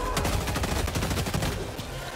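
A loud, close volley of rapid automatic gunfire from Helldivers, steady shots for about two seconds before trailing off.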